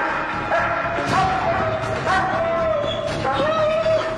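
A guard dog at a harsh Russian prison barks and yips repeatedly in short, loud bursts, with whimpering tones in between and a noisy background throughout.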